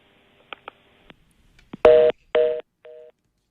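Electronic telephone tones on a bad phone line: a few short clicks and beeps, then two loud sustained tone bursts and a fainter final tone.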